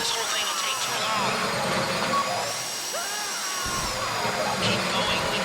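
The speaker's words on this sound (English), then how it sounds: "If the drill burns out, this whole thing will take too long" A drill grinds steadily into a bank safety deposit box during a Fleeca bank robbery in GTA V, giving a continuous loud mechanical whine with wavering pitch. It runs the whole time under background game sounds.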